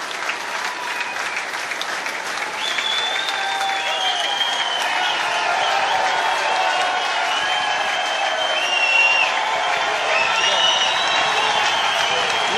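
Packed crowd at a handball final in an indoor complex applauds and cheers continuously, a dense roar of clapping with whistles and shouts rising over it throughout.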